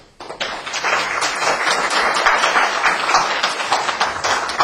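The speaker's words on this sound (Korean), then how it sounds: "나오실 때 좀 환영으로 박수해 주시기 바랍니다" Audience applause welcoming the pastor at a Korean church service, dense sustained clapping from a crowd that starts abruptly and carries steadily to the end.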